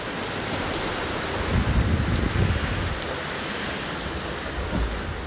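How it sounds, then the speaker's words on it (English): Steady rain hisses down outdoors, a continuous wash of noise with a few heavier bursts in the middle. "Looks like the rain started."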